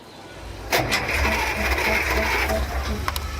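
The engine of a restored World War vehicle cranks and catches, then settles into a loud, rough, steady running rumble with rhythmic mechanical clatter, close by and without speech.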